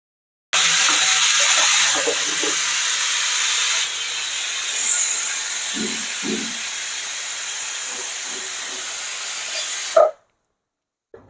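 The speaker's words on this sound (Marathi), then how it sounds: "दाल खिचडीसाठी आपण कुकर लावूया आता।" A pressure cooker on the stove vents steam while cooking dal khichdi, a loud sustained hissing whistle that runs steadily for about nine seconds before cutting off abruptly into silence.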